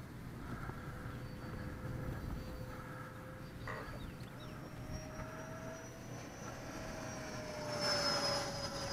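A Freewing T-33 RC jet, flying just after its wing was repaired following a crash, whines faintly at a distance, its engine tone gliding up steadily before swelling louder near the end as it passes closer.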